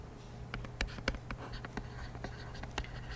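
A number is written by hand with pen or pencil on paper, giving close, quiet scratchy strokes and taps in a quick irregular rhythm.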